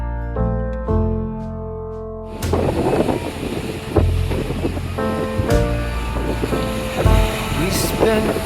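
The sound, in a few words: high sea waves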